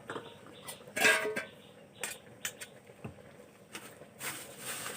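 A lid goes onto a cooking pot of leafy greens with light metallic clinks and taps, a few scattered pan knocks and rattles spread across the moment, fairly quiet and close.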